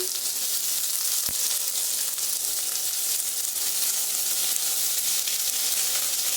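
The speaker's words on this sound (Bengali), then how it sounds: "এবারে এই কেটে রাখা পেঁয়াজগুলো দিয়ে দিচ্ছি" Chopped onions fry in hot oil with whole spices, giving a steady, loud, even sizzle from start to finish, with a single sharp tap of a utensil early on.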